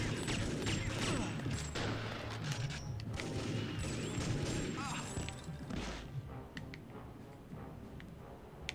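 Gunfire in TimeSplitters: Future Perfect inside an enemy villain's secret base, dense overlapping shots and impacts cluttering the mix with a voice talking over them before thinning out toward the end.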